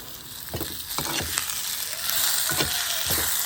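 Tomatoes sauté in a pan for a sail fish curry, producing a continuous close sizzle with repeated spoon scrapes and stirring knocks roughly every half second, with no talking.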